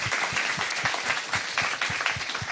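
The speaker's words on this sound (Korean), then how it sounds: "응원의 박수 부탁드리겠습니다" An indoor audience at a talk show gives short, lively applause, the claps dense and rhythmic, with a few faint voices mixed in.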